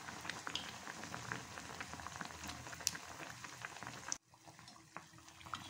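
Bread pakora frying in hot oil, a steady dense sizzle and crackle that drops off sharply near the end, then continues more faintly.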